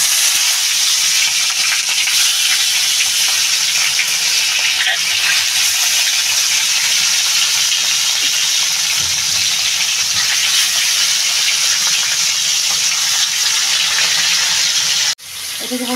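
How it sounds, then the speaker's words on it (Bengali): Tilapia fish frying in hot oil, a steady, loud broadband sizzle that holds unbroken for about fifteen seconds before a sudden cut near the end, with faint background sounds underneath. "এদিকে বন্ধুরা মাছটা ভাজা হবে"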